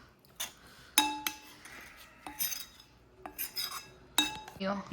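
A spoon stirs fresh coriander into a garlic potato curry in a metal pot, making a handful of bright, ringing clinks and scrapes against the pot at irregular moments, close by and with no speech.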